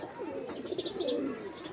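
Racing pigeon cooing close by, a soft warbling coo that rises and falls continuously for under two seconds, heard alone.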